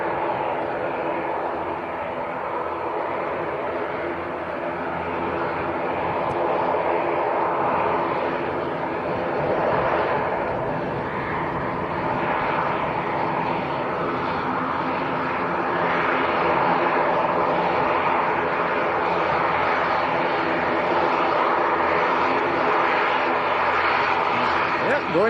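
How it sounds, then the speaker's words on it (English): An Aer Lingus ATR 72 turboprop airliner departing from Leeds Bradford Airport gives a steady, continuous engine drone. It holds at a moderate level throughout, with a slight swell toward the end and no pauses. "Aer Lingus next to go, ATR 72."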